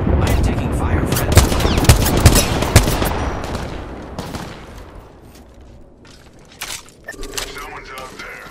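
Rapid gunfire from the Apex Legends video game, dense bursts of shots and cracks for the first few seconds, then thinning to scattered distant shots with a short burst near the end, under game voice lines.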